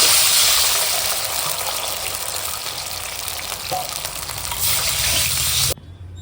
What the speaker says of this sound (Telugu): ఇప్పుడు ఇందులో మనం 2 గ్లాసులు నీళ్ళు పోసుకోవాలండి